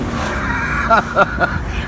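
A 2004 Mercedes-Benz CLK500 AMG Sport with a V8 engine accelerates on the road, a loud, steady engine drone heard from inside the car with a few rising tonal swells near the end.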